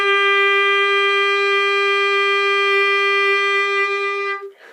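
A clarinet sustains a single steady A, a clear, loud, unwavering tone held for over four seconds before it cuts off.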